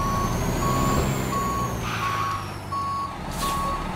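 A truck reverses in Universal Truck Simulator, its steady reversing beeps repeating evenly over a continuous engine drone, with a brief hiss partway through.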